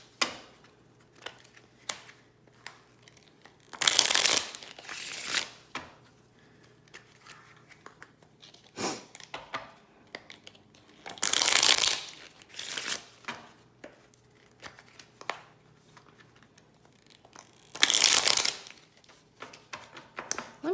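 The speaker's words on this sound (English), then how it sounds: "Let me shuffle one more time" Three separate bursts of cards being riffled and shuffled, each a loud rapid flutter lasting about a second, with quieter handling noises between.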